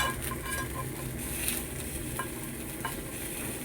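Fish sizzles in hot oil in a small pan, a steady loud crackle with occasional sharper pops and light stirring, no voices.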